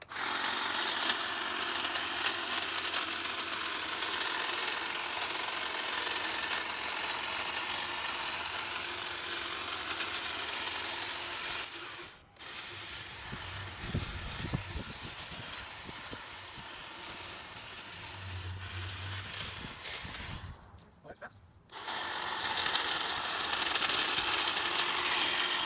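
A DeWALT hedge trimmer buzzes steadily and loudly up close while slicing through branches, its drone running almost continuously with a couple of brief cutoffs and some cracking of wood, and no voices heard.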